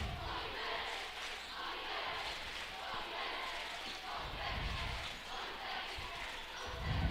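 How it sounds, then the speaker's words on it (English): A rowdy Warrior student section at a high school basketball substate final stands and chants, with the crowd's noise rising and falling in rhythmic surges across a packed gym. "The full Warrior contingent on their feet chanting."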